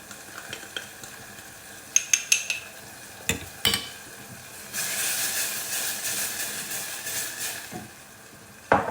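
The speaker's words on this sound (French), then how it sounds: "je vais remuer mon maïzena dans la crème froide. Je remue bien pour ne pas faire de grumeaux." Cornstarch being stirred into cold cream for a roast pork Orloff, with scraping stirring strokes and brief clinks close by, then a longer hissing stretch, with no talking.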